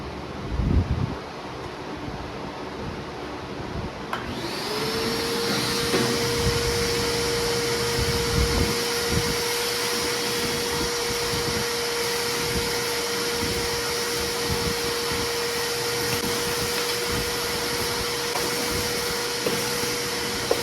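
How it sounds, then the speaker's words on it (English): Vacuum cleaner used to suck debris out of the engine bay of a Fox body car, starting up after a few seconds into a loud steady whine with a rising drone, occasional rattles of debris being pulled in, running alone up close. "We're gonna get the vacuum over here and suck all this crap up"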